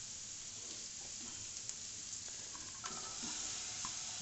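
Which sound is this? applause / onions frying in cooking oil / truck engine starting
onions frying in cooking oil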